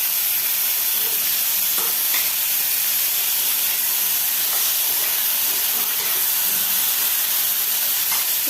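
Vadi (lentil dumplings) fry in a few spoonfuls of oil in a pan, a steady loud sizzle and hiss running throughout with occasional faint stirring clicks.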